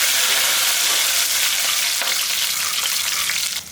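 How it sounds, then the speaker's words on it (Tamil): Coriander and mint frying in hot oil for vegetable biryani, a steady, close, loud sizzle that continues without pause and eases off slightly at the end. "கொஞ்சமாக கொத்தமல்லியும் எண்ணெய்க்குள்ளேயே போட்டுடலாம்"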